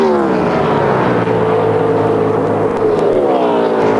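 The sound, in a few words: Winston Cup race car engine running poorly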